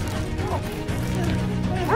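A dog in a video game gives short yelping barks, one midway and another at the end, over a busy, rumbling game soundscape.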